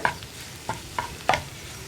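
Egg and green gram thoran (payar mutta thoran) being stirred in a pan: four separate close scrapes and taps of a spoon against the pan, with a soft cooking hiss between them and no voices.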